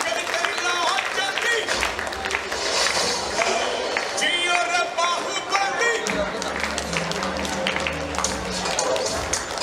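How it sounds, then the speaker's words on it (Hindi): An audience at a live stage show in Uttarakhand breaks into loud, sustained applause and cheering, a dense wash of clapping that runs through the whole stretch with other sound mixed in. "जोरदार तालियां"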